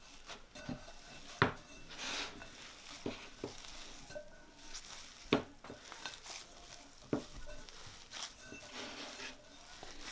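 Vegan bread dough for barbecue wings kneaded into a ball on a wooden board, giving soft, intermittent rubbing and slapping thumps at an uneven pace, close by, with no talk.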